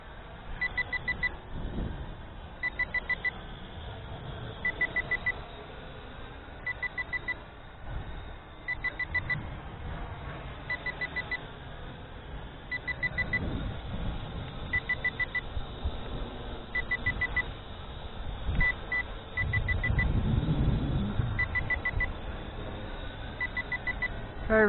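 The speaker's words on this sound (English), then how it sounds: "Okay, we've still got an alarm." A Visuo XS811 foldable GPS FPV quadcopter controller sounds its low-battery alarm as a repeating group of high, quick beeps, pulsing at a steady interval over a continuous whirring hum.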